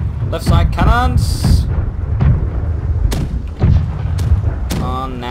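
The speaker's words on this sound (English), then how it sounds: "Left side cannons." Cannon fire in the Blackwake naval battle game: several heavy booms and thuds scattered through the clip, loud and close, mixed with in-game clatter and voices talking over the action.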